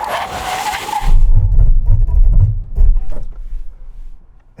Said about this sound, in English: Full emergency stop from 60 miles an hour.